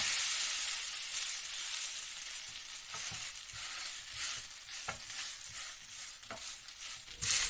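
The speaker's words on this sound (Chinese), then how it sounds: "一直用中小火煎到两面金黄。" A shredded potato pancake sizzles steadily in a pan over medium-low heat, a dense, even hiss with scattered pops and light crackles throughout, no voices present.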